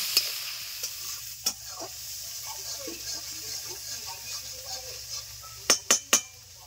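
Boal fish curry sizzles steadily in a pan as a spoon stirs and scrapes through it. Scattered soft scrapes run through the clip, then a few sharp metallic clinks come close together near the end.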